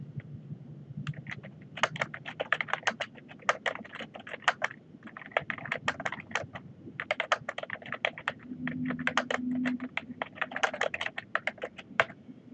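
Rapid clicking keystrokes on a computer keyboard as a search name is typed, arriving in quick bursts separated by short pauses, close and clear with no voices.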